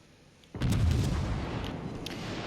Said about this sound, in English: those are British battleships, meaning they are probably shooting high explosive